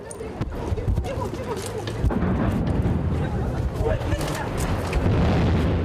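Deep booms of explosions in Ukraine during a Russian offensive echo through a chaotic scene, with several heavy thuds and rumbling noise under indistinct voices and sirens.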